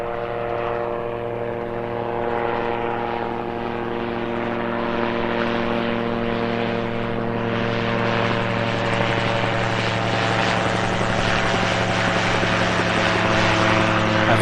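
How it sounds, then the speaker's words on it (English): A gyrocopter taking off at an airfield, its rotor and propeller engine droning loudly and steadily, a rich humming tone that swells slightly as it climbs and passes overhead, with no talking. "That gyrocopter making its takeoff a bit more effectively than the one I saw at Scampton after that air show"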